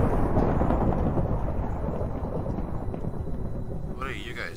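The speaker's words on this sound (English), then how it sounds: "Did you guys see that lightning? I hope it didn't crash on anything." Thunder from a lightning strike in the Minecraft video game rumbles loudly and continuously, a dense low roll that fills the whole stretch and slowly fades slightly, with a brief voice at the very end.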